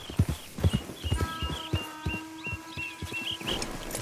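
Horse hooves clip-clop in Red Dead Redemption 2, an uneven run of close, hollow knocks over a low ambient bed, with a sustained tonal drone and faint bird-like chirps in the background.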